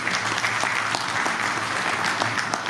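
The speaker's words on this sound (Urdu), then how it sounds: "تو ایک دفعہ پھر بہت ساری تالیاں صابر رضا صاحب کی" Mushaira audience at a Yorkshire Adabee Forum ghazal evening applauds poet Sabir Raza with steady, dense clapping that fills the room throughout, with no voices over it.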